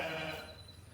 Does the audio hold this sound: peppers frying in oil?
no